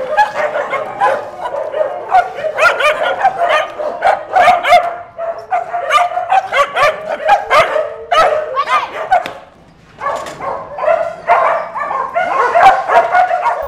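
Many dogs at a free-roaming animal shelter bark and yip repeatedly and close by, a busy overlapping chorus of barks with brief whimpers, continuing almost without pause.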